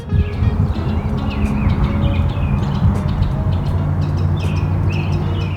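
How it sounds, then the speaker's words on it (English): Small birds chirp and tweet repeatedly in a riverside park on Chattanooga's North Shore, their short calls scattered over a loud, constant rushing background from the river. "If I just stop talking for a minute, you'll hear all the birds."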